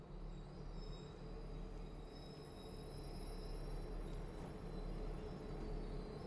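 A Conway Scenic Railroad train runs through North Conway Village, New Hampshire, giving a steady, faint rumble of rolling wheels and carriages that holds unbroken throughout.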